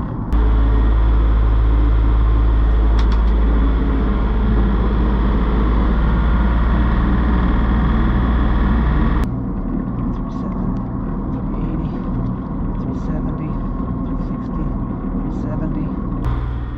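A 40 hp three-cylinder Yanmar diesel drives a sailboat's MaxProp propeller in reverse, a loud, deep, steady engine drone that suddenly drops to a quieter idle about halfway through.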